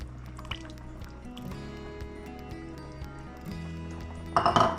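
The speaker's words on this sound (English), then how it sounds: "now we'll put the final ingredients, and that's our coconut milk with cornstarch" Coconut milk mixed with cornstarch is poured into a pot of elk curry, with soft liquid trickles and faint clinks, ending in a brief louder splash near the close.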